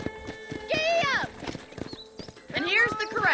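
Horse hooves clip-clop in Red Dead Redemption, a steady rhythmic trotting under a voice, with a horse whinny rising over it.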